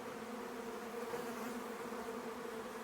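Honeybees and wild bees hum densely together during a strong nectar flow, a steady close buzz of many insects with no pauses.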